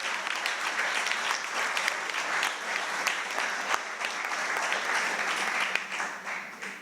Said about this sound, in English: One more round of applause for the young people.